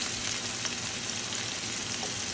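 Green chilies and spice paste frying in a pan give a dense, continuous close sizzle with crackly spatter, steady throughout and with no talking.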